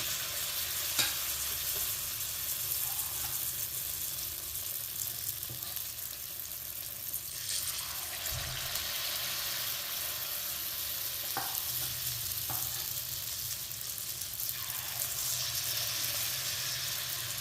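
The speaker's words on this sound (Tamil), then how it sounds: "இப்போ எண்ணெய் காஞ்சிருச்சு நாம் இப்போது இந்த கோதுமை மாவை கொஞ்சம் கொஞ்சமாக போட போகிறோம்" Wheat flour bonda batter dropped bit by bit into hot oil, frying with a loud, continuous bubbling hiss that holds steady throughout, broken by occasional soft clicks of the spoon.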